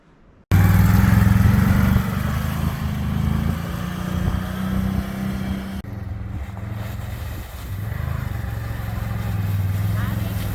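A new 2022 Can-Am Outlander 570 XMR ATV engine runs steadily with a low, continuous drone that starts abruptly and holds fairly loud throughout, with people talking over it.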